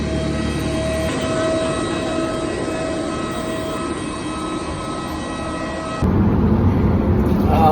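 Steady, loud broadband engine roar inside a passenger airplane cabin, continuous throughout with a sudden shift to a rougher, louder rumble near the end.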